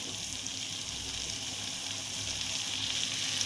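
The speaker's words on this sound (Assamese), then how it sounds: "মই ইয়াতে গৰম পানী দি দিম" Hot water meets fish frying with sesame paste in a pan, giving a constant close hiss and sizzle that holds steady and grows slightly louder, with no talking.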